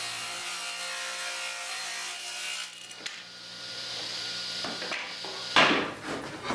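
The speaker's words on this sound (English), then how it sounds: "I started with resawing to the correct thickness." Hardwood pieces are resawn to thickness on a power saw, with a sustained whining cut and machine hum that briefly drop away, then a louder burst of cutting near the end.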